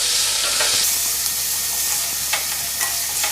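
A medium-sized onion fries over a medium-to-high flame for a Bengali fish chop, with a constant close sizzle and a few sharp scrapes from stirring.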